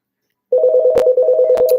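A phone rings with an incoming call, a steady electronic tone starting abruptly and continuing with two short clicks over it, close and fairly loud.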